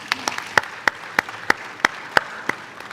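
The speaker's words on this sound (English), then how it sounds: "Deserves a round of applause for that." A conference audience at the 3i Africa Summit 2024 claps in a sparse, fairly regular rhythm of about ten distinct, moderately loud hand claps, heard alone.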